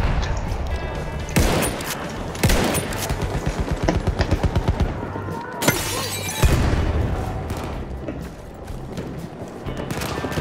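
Pistol fire in the first-person shooter Battlefield 1, with sharp repeated shots and impacts, some in quick bursts, amid loud battlefield noise and mechanical clatter.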